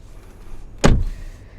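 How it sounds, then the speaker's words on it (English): A rear door on a 2020 Mazda CX-30 swings shut with a single solid thud at close range, set against a quiet interior hush before and after. "So if I close the door,"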